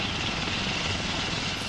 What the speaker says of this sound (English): He's in a helicopter.